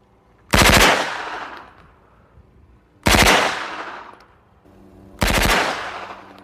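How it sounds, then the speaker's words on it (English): An MP5 submachine gun fires three loud, sharp bursts of rapid shots a few seconds apart. Each burst rings out and fades into a reverberant tail before the next. "I will load two 30-round magazines that are side-by-side in a magazine clamp, and I will fire two 3-round bursts initially"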